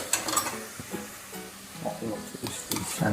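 Onion paste fries in a pan and is stirred, with light sizzling broken by scraping and clinking strokes of a utensil, while a voice talks in the background.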